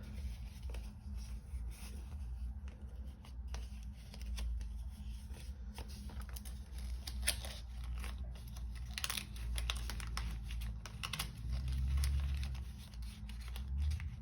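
Cash bills being folded and stuffed into a budgeting cash wallet, a steady run of soft paper rustles, crinkles and handling noises, fairly close, with no talk.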